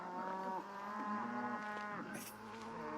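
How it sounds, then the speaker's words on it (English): Several cows lowing in a crowded field in Crusader Kings 3, long overlapping moos held close and steady, with no talk over them. "lots of cow noises"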